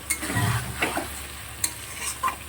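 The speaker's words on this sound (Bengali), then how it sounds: "এবার মাংসটা আমি খুব ভালো করে কষিয়ে নেব।" Mutton frying in spices while being stirred, a soft steady sizzle with a few scraping strokes of a spoon against the pan, close and alone.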